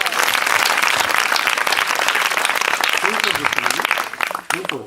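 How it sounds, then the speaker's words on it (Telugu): Loud applause from a large audience at a Telugu Christian gospel gathering, sustained dense clapping that thins toward the end as a voice begins speaking over it. "గట్టిగా చప్పట్లు కొట్టండి"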